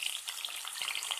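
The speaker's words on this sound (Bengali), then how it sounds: "সব আলুগুলো দিয়ে দিয়েছি। আলুটা ভালো করে ভেজে নেব।" Diced potatoes fry in hot oil in a wok. A soft, fairly faint crackling sizzle runs steadily through the short moment, with no talking.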